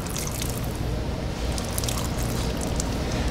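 A car wash mitt is rinsed out in a bucket of water, making close, continuous sloshing and splashing with dribbling water throughout.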